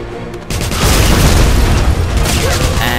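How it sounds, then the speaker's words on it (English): A loud in-game explosion from the Wolfenstein video game bursts in after a brief quiet moment and rumbles on densely, with a commentator speaking over it. "something just exploded around you and you are not moving an inch"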